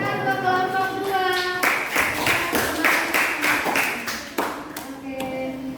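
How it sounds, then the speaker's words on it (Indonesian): Classroom of students clapping for group 2 after a presentation, a run of close sharp claps over a voice talking throughout, with a few taps near the start. "Tepuk tangan ke kelompok 2."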